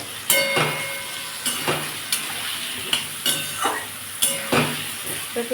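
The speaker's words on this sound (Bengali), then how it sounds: "ভালো করে কষাবো" Spiced masala for dhoka curry being sautéed in a pan, with regular, firm spatula scrapes and taps every second or so over a steady background sizzle, close and fairly loud, no one talking.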